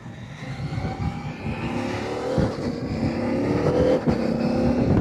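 A motorcycle with a quickshifter accelerates through gears, its engine note rising in pitch with brief dips at shifts, steady and fairly close, with a faint gust of wind noise.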